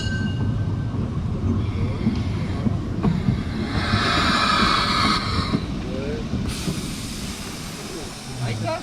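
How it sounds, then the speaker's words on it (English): A class 99 narrow-gauge steam locomotive, number 1758, pulls into Oschatz South station on the Döllnitzbahn during a festival, with rumbling wheels, a loud burst of steam hiss midway and squealing brakes near the end. "now we can take a look at the steam train arriving at Oschatz South."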